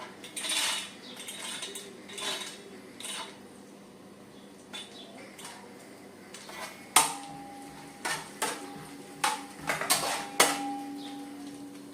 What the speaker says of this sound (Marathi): तर हे बदाम आणि काजू पिस्ता मी तुपातून काढून घेते मी